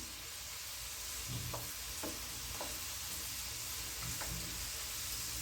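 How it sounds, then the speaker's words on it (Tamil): Okra snack pieces frying in hot oil until crisp, a steady bright sizzle and hiss throughout with a few soft stirring clicks from a spoon, close and continuous with no talking. "நல்லா முறு முறுன்னு வரட்டும் அந்தளவுக்கு நம்ம இதை பொறிச்சு எடுத்துக்கலாம்"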